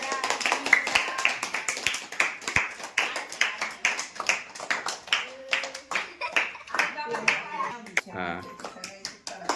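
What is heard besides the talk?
people clapping hands at birthday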